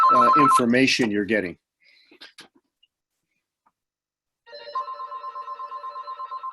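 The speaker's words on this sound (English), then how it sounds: "Sorry about the phone in the background here." A telephone trills repeatedly in the background in a steady run of rapid electronic rings. Someone talks before it starts, and the ringing follows after a short quiet gap.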